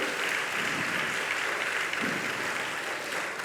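Audience applause for children at a Jain religious gathering with Muni Pramansagar, a continuous even wash of many hands clapping from start to finish, moderately loud with no talk.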